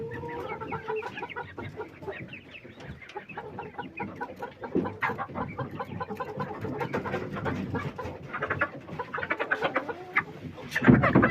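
Chickens cluck and squawk nearby as they are put into cages, a busy, irregular chorus of calls that grows louder and more agitated toward the end, with little talking.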